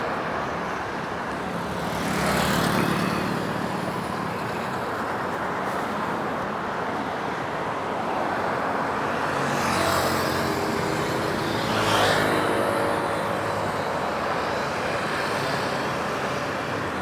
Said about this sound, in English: just enjoy a little bit of the road audio from all the cars